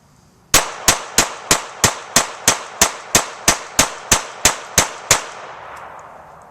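A Taurus TX22 .22 pistol fired in a rapid, evenly spaced string of about fourteen sharp, loud cracks, each with a short ringing tail, then quiet.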